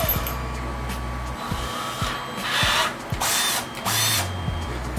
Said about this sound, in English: Drilling through my deck.